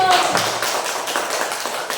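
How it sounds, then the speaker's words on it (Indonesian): A classroom group applauds a student group after its answers. The dense clapping is close and loud for about two seconds, with voices mixed in. "berikan tepuk tangan untuk kelompok 1"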